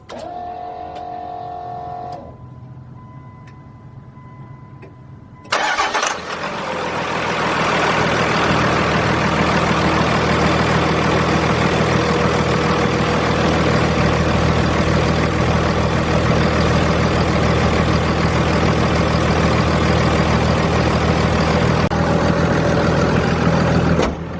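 A Cummins diesel truck engine cranks briefly, then catches and settles into a loud, steady, rumbling idle that runs unbroken for most of the stretch, close to the listener with no talking over it.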